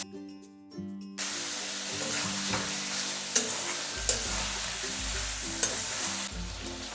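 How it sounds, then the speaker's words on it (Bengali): Crushed ginger and garlic hit hot oil in a pan for chicken curry, bursting into a loud, steady sizzle after a quiet start, with occasional sharp clinks of stirring and a low rumble of cooking beneath. "থেতো করে রাখা আদা আর রসুনটা দিয়ে দিচ্ছি।"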